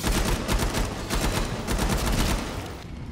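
Rapid, dense shotgun blasts ring out in the Killing Floor 2 game, loud overlapping bursts firing in a nearly continuous barrage throughout.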